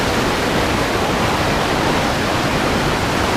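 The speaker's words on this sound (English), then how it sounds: "one last look from the bottom of the falls up to the major falls" Pedernales Falls roars from the bottom of the falls, a loud, constant broadband rush of falling water that fills the scene without pause or any voices.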